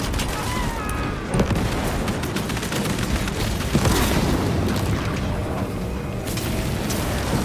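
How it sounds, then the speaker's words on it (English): Frag grenade explosion in Warhammer 40,000: Space Marine 2 during a battle, with booming blasts amid a dense, continuous barrage of gunfire and combat noise, two heavier thuds standing out. "Using frag grenade."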